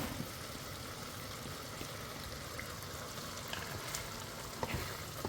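A quiet, even hiss of simmering and stirring as crushed tomato is worked into lentil soup in a pot, with faint scraping clicks and no voices.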